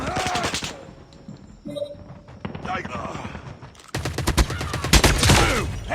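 Rapid automatic gunfire bursts in the mobile shooter Call of Duty Mobile, loud close volleys broken by pauses, with the heaviest rattling fire at the end.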